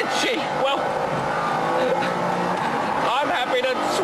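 A McLaren F1 supercar is driven hard, its engine note rising and falling through loud revving sweeps close by while someone speaks over it.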